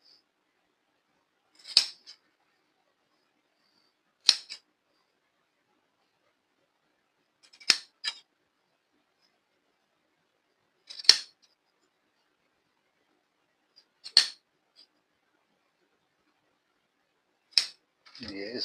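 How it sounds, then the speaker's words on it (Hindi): Scissors snip through excess fabric while mending clothes, six short crisp cuts spaced a few seconds apart, close and clear against near silence. "ये जो कपड़ा फालतू नज़र आ रहा है आपको, ये इसको हम बिल्कुल साथ यूँ काट देंगे, ये उल्टी साइड से"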